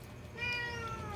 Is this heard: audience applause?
no